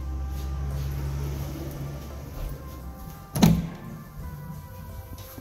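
A self-closing door in a house built around 1967 swings shut with a single soft thud, preceded by a low steady hum and followed by quiet room tone.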